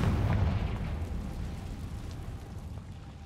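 Confringo fire spell blast in the Hogwarts Legacy video game, a booming low burst right at the start that rolls off into a fading rumble.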